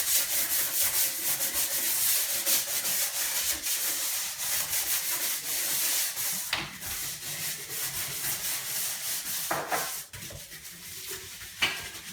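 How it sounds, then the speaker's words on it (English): A damp scrub brush works over bathroom counters in a master bathroom, making close, continuous rubbing and scratching strokes with a few sharper scrapes, and no one speaks. "I'm going to use my same scrub brush that I used on my tub, get it a little damp. And just really scrub down the counters"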